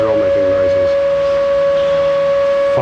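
A siren wails as one steady, sustained tone that carries through the whole stretch, loud and unbroken, with a voice briefly audible at the start.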